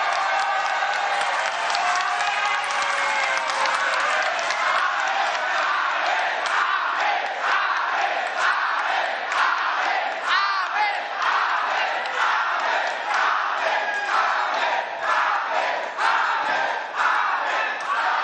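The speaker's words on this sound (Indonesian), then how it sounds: "Kita berdiri memberikan aplaus kepada mereka berdua." A large crowd gives a standing ovation to the presidential and vice-presidential candidates at a political declaration event in Indonesia, with sustained loud applause and cheering filling a big hall, steady and unbroken throughout.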